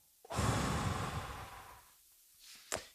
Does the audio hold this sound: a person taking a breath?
yes